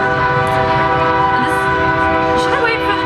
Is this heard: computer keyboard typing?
no